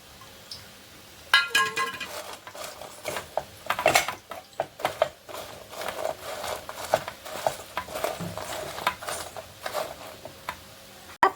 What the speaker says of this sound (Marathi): लाल तिखट आमचूर पावडर आणि थोडंसं चाट मसाला टाकला मी त्याच्यात आपण मिक्स करून घेऊया